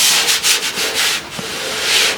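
Rough, steady sanding of a rusty bare-metal car hood during stripping, a loud close abrasive rasp in rhythmic back-and-forth strokes with no talking.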